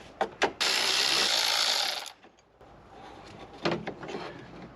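Tool tightening down a latch on a cheap, neglected luxury SUV: a few sharp ratcheting clicks, then a loud sustained mechanical grinding burst of about a second and a half, followed by quieter scattered clicks and handling noises.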